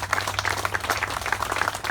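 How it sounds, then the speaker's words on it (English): Fellow officers applaud outside the West Jordan Courthouse in 2022, a steady, moderately close patter of many hands clapping without pause. "Pearce received applause from fellow officers as he arrived for a hearing."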